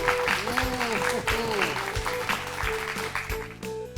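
Applause from a classroom group of children after a correct quiz answer, a lively burst of clapping mixed with cheering voices that fades near the end.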